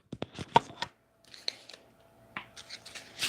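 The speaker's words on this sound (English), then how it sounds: "let me just shuffle again" Tarot cards being shuffled, with a run of crisp riffling and slapping bursts, a pause, then more close-up card shuffling; no talking.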